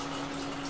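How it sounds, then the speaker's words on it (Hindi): Water pours in a short, steady gushing rush into a pressure cooker holding potatoes for boiling, close and fairly loud with no voices. "इसमें थोड़ा सा पानी डाल दूँ मैं"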